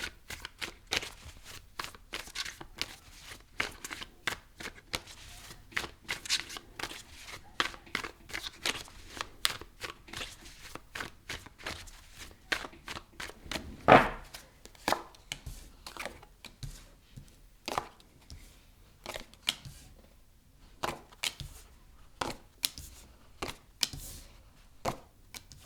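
Tarot cards are shuffled and pulled in rapid, dense riffles and flicks, a near, continuous crisp slapping that runs throughout with no talking.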